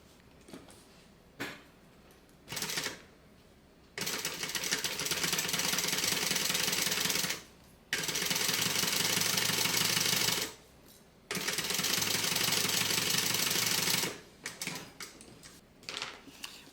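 Sewing machine stitching a zipper onto a bag pocket runs in several bursts of steady rapid whirring, with pauses and small handling clicks between runs.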